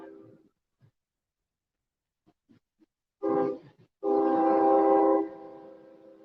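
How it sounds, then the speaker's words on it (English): A train sounds its horn, first a short blast and then a longer sustained tone that trails off, heard at a distance amid otherwise quiet night surroundings. "And there's the train right on schedule."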